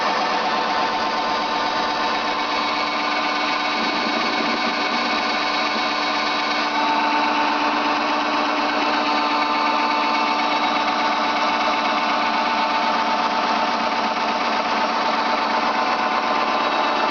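An electric drill, powered by a magnetic motor rig under test, runs with a steady, continuous mechanical whine that holds at the same loud, even level throughout, with no voices.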